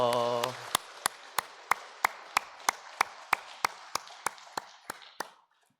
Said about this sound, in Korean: 우리 환영의 박수로 맞이하도록 하겠습니다